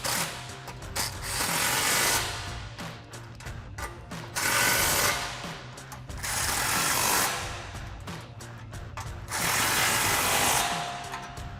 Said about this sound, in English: now we have our 2 factory clamps after the X pipe, impact and 15mm socket.